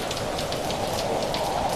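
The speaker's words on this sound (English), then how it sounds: "It's raining too." Rain falling outdoors in cold weather, picked up by a microphone set outside, a dense steady patter and hiss of drops on surfaces lasting the whole short moment.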